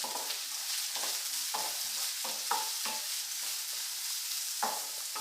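Chopped onions for dal fry sauté in a pan with a steady broadband sizzle, broken by several soft scraping stirs at irregular intervals, moderately near and without any talk.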